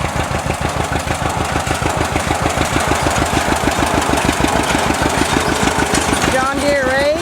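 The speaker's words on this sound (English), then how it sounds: "here we have Larry coming at me with his John Deere propane 1957 tractor and his John Deere rake" A 1957 John Deere propane tractor pulls a John Deere 640 hay rake during Missouri hay baling, its engine chugging in a loud, close, steady rhythmic knock throughout, with faint talk over it.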